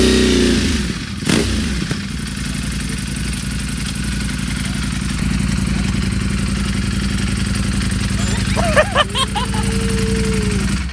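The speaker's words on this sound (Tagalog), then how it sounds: "Ito na yung motor." A motorcycle engine idles steadily close by, with a short rev near the start and a quick throttle blip toward the end.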